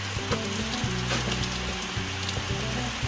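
Rain falling outside a house, a dense, close patter and hiss with scattered sharper drops, loud and continuous throughout, along with a low steady hum and no speech.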